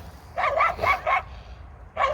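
Dogs bark in short bursts, several quick barks in a row, a pause, then another bark, fairly close and loud.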